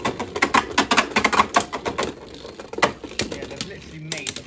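Hasbro and Takara Tomy Beyblade spinning tops battle in a stadium with rapid, sharp plastic clacks and rattling collisions, loud and close. The impacts thin out toward the end.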